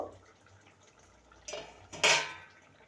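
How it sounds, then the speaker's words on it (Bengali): A metal lid comes off a pot of potatoes cooking on the stove, giving two sharp clinks about half a second apart, the second louder and ringing briefly over a quiet kitchen. "ঢাকাটা খুলে দেখে নেব"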